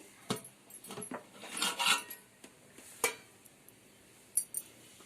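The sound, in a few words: opening the lid of a chicken dum biryani pot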